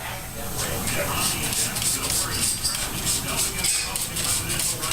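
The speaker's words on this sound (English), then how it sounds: "this is a cold patina that he's just spraying on" A steady, close hissing spray of cold patina onto white bronze runs continuously with slight pulsing, while a voice talks faintly underneath.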